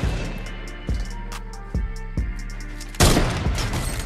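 Gunfire in Fortnite, a few heavy single assault-rifle shots spaced apart, then a dense burst of rapid fire, close and loud over a low game hum.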